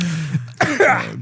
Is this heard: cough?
yes